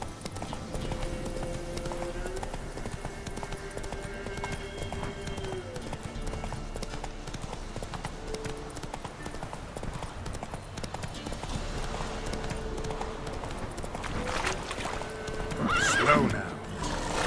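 Horse in The Witcher 3 galloping with steady, continuous hoofbeats, and a neigh rising near the end; a voice talks over the ride.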